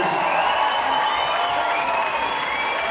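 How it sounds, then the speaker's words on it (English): Sustained crowd applause with some cheering for two young boxers after a four-round fight, a dense steady wash of clapping filling the arena without a break. "How about a round of applause for both of these young fighters?"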